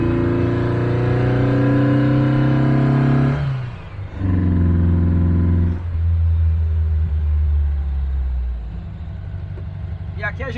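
A 1957 car engine fitted with a W110 camshaft is held near 2,000 RPM, rumbling loud and steady, easing off briefly, surging again, then settling back toward a rough idle close by.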